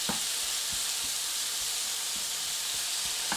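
Zucchini fritters fry in a pan with a loud, continuous sizzle, and a few small pops and crackles break through the hiss, with no voices.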